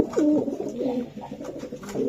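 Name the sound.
pigeons cooing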